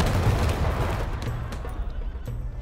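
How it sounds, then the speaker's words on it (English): Soldiers' gunfire in a film, a dense, continuous barrage of shots forming a loud rumbling roar, with a few sharper cracks standing out near the end. "The soldiers turned on them and started shooting."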